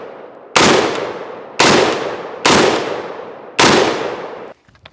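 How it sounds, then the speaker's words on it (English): Four loud, evenly spaced shots from a lightweight AR rifle at an outdoor range, each a sharp crack with a fading echo, about a second apart. "We're gonna shoot."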